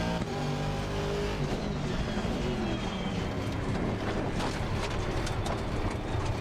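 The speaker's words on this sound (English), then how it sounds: "The car sound, the noises in the cabin, the cockpit." A Volvo rally car in the racing game Assetto Corsa Rally drones along steadily from the cockpit, with engine tones shifting over continuous gravel rattle and mechanical clatter, loud and without talk.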